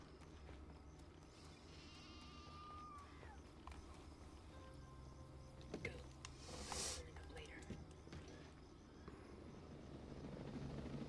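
A helicopter in the video game Ghost Recon Breakpoint gives off a continuous low rotor drone under other game sounds. A brief bright burst comes in midway, and the drone swells slightly toward the end.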